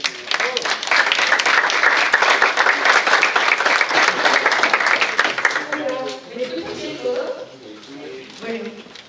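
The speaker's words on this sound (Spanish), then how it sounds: "La recibimos, por favor, con aplausos." Audience applause welcoming a speaker at a university conference series, a dense wash of clapping for about five seconds that then thins out and fades as a voice begins speaking over the last scattered claps.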